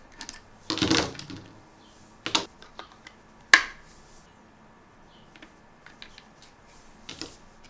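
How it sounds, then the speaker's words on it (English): Batteries being fitted into a Fluke 62 Max infrared thermometer: a cluster of sharp plastic clicks and snaps, then a few lighter scattered clicks, close and fairly quiet with no talking. "so I'm gonna put the battery in."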